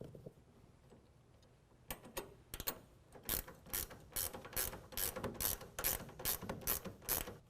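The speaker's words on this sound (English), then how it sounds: "Now we're going to go ahead and tighten those down with a 7/16 on each side." A hand ratchet with a 7/16 socket tightens the bolts on a wheel well toolbox bracket, giving quiet, close, rapid clicking strokes that start after a short lull and continue steadily.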